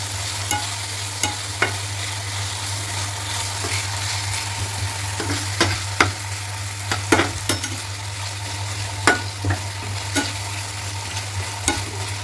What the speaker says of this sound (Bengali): এবার এটা ভালো করে নাড়াতে হবে।